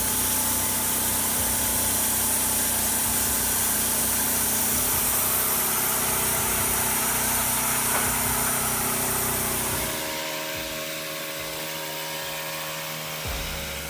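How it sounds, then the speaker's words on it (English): A loud, close engine-driven saw cuts hardwood with a harsh high-pitched buzz, the engine loading up as the blade bites, then drops to a lower idle near the end. "You can hear the engine load up each time the blade bites into hardwood."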